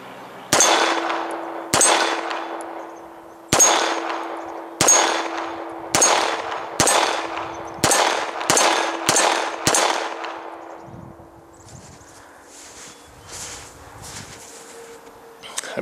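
Ten heavy .500 S&W Magnum revolver shots ring out, each followed by a metallic clang off a steel target, spaced about a second apart and quickening toward the end, with each report decaying into a ringing tail and quieter rustling after.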